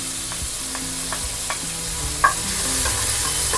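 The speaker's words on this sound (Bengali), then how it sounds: "এখন একে একে সমস্ত উপকরণগুলো দিয়ে দেওয়া হচ্ছে: গার্লিক, পেঁয়াজ" Garlic and onion frying in a pan for spaghetti and meatballs, a steady close sizzle with occasional light scrapes and taps of stirring, no voices.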